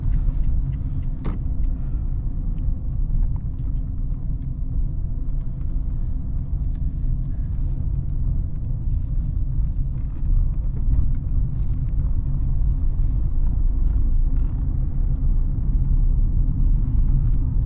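A steady low rumble of a car driving, engine and road noise droning continuously with no talking.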